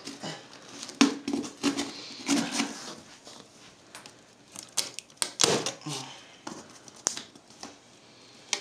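A Genius KB 350e keyboard box being opened, with scattered crisp cardboard and plastic rustles, snaps and clicks at close range, quiet between bursts.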